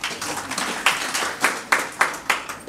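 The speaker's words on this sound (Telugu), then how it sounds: "ఆమెకి గుడ్ అప్లాజ్ ఇవ్వచ్చు మనం" Audience applause at a Telugu Veda Vijnana Vedika gathering honouring a speaker, a scattered burst of hand claps with sharp repeated peaks, moderately loud and close, with no talk over it.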